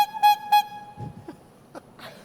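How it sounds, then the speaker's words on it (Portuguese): Two short, bright honks from a small tuned horn, then scattered faint clicks and light noises afterward. "ele mostra aquela confusão do trânsito, ele usa uma buzininha, ó."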